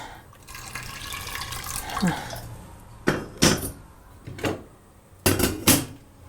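Water being added to an over-salted dish in a cooking pot, with splashes, clinks of pots and utensils and short pours, close by, while a person talks between sounds.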